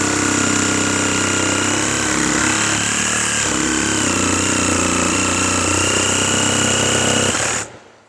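A power saw runs steadily for cutting through old timber beams with nails in them, a loud continuous motor drone with a high whine on top, holding for about seven seconds and then cutting off abruptly.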